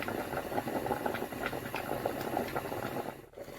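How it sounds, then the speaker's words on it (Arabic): Fava beans with tomatoes bubble away inside a covered pressure cooker, a steady close boiling and gurgling with light rattling, heard alone without talk. "زين نغليه شويه في وسط الطماطم، نقفل على الكوكوطه تاعي"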